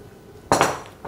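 Single sharp clink of a metal spoon against a bowl while mixing tapioca flour and ground meat dough, close and brief, then a softer knock.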